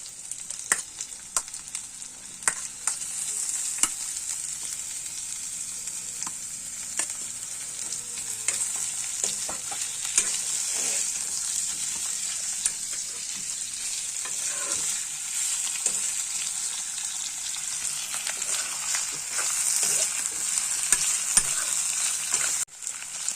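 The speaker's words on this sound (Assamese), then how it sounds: "এতিয়া মই ইয়াত মাংসখিনি দি দিম" Pork frying in a pan gives a steady, bright sizzle, with frequent scraping and tapping as the meat is stirred, close and continuous for over twenty seconds without talk.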